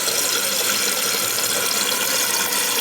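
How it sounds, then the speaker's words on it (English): A Toto toilet tank refilling with water after a new flapper is fitted, a loud continuous hiss and rush of water flowing steadily without pause. "this is supposed to flow back into this tube here to refill the tank"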